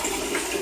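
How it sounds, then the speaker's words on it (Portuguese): Water gushes steadily from a kitchen tap while filling, a dense, continuous splashing hiss heard up close for a brief moment. "Desculpa o barulho da água, mas eu tô enchendo."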